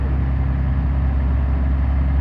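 A loud pulling tractor engine at a tractor pull in Carrollton, Ohio rumbles steadily at close range, its deep, throbbing low end dominating without any talk.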